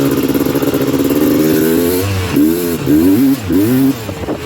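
Honda TRX330R quad's engine chugs along in third gear, a loud, close mid-pitched drone with rising and falling throttle swells as it lugs at low revs.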